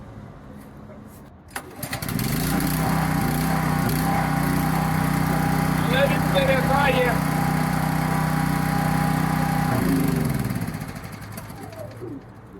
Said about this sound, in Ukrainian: Так Зараз я заведу, як він працює. Він по е, по шуму трохи шумніший, ніж обичний.